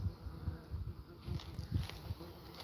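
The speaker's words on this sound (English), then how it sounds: "The guard bees." Guard honey bees buzz at a beehive entrance where wasps are attacking the colony, a close, steady hum that swells in repeated low pulses.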